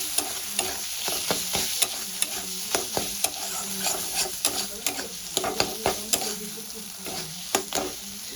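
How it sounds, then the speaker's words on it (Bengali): Cumin, chili and turmeric powders fry in hot oil while a spatula scrapes the pan in quick rhythmic strokes, each stir a sharp knock over a continuous close sizzle. "দিয়ে ভালো করে ভেজে দেবো"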